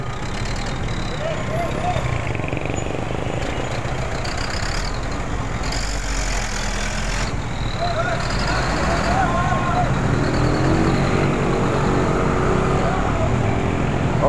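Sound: traffic jam of cars and trucks on a town street

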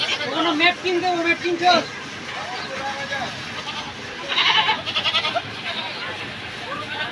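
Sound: goat bleating

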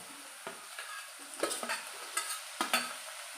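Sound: tomato being stirred and fried in oil with masala

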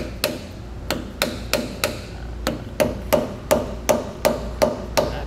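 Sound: dead blow hammer tapping a trailer hub bearing race

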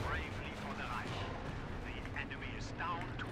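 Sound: artillery fire in Company of Heroes 2 video game

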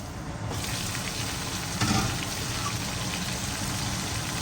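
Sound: fish being fried in a pan

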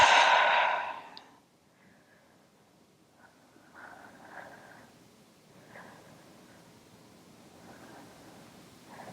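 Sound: deep breath in through nose, out through mouth

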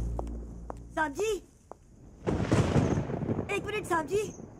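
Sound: thunder of an approaching storm in a movie

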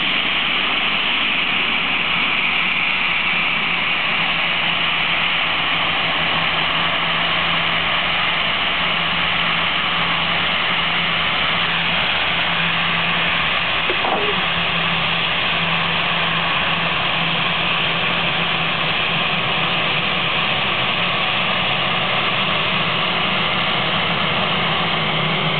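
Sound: TAM airliner engines at the runway before takeoff

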